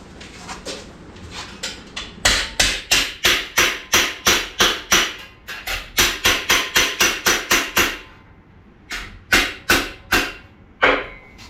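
Hammer blows flattening a 1957 Chevy quarter panel, loud rapid metallic strikes in bursts with brief pauses, close and alone without talk.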